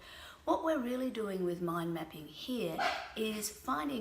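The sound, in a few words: dog barking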